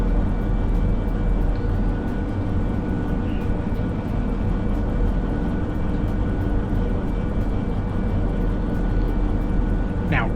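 Locomotive throttling up and pulling forward in the Derail Valley video game, a steady heavy diesel engine drone with low rumble and faint mechanical tones, continuous and loud without a clear change.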